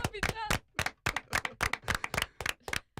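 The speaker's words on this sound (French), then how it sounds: "On peut applaudir aussi" Sharp, distinct handclaps from a small group on a comedy talk show come in an uneven run of about a dozen close, crisp claps, with a brief voice at the very start.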